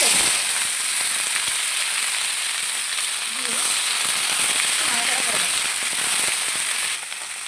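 Washed mixed vegetables go into hot oil tempered with a bay leaf, dried red chilli and panch phoron, giving a dense, crackling sizzle that stays loud and close throughout, faint talk occasionally beneath it.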